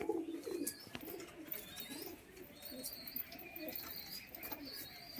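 Pigeons coo in low, soft bursts close by, with scattered chirps and rustling in a busy loft, and a sharp knock early on.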